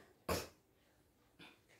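Two quiet coughs, the first stronger and the second softer a second later, somewhat distant with faint background noise.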